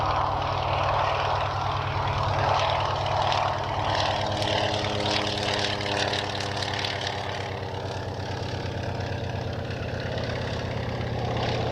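An Antonov An-2 radial-engine propeller biplane runs up for takeoff, its steady loud droning engine and propeller hum holding close and continuous throughout, with no talking over it.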